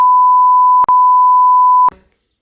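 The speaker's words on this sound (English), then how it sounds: "the drivers will just start beeping" Two steady electronic car horn beeps, one short and one long, sound loudly in clean succession, with no other noise around them.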